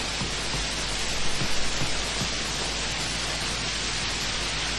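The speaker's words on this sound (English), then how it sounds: "Raining then." Steady heavy rain hisses down on a rooftop level in the video game Max Payne 2, a dense even wash of noise with a few faint thuds beneath it.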